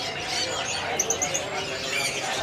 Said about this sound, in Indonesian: Ini burung dari tadi gacor banget